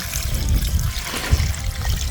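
Water pours into a pot of cooking shrimp in a provincial home kitchen, a steady, close trickling and splashing that runs without a break and without any voices over it.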